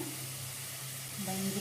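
Garlic sautés in a pan over a slow flame, making a steady soft sizzle for a short stretch with a faint low hum beneath it and no talk.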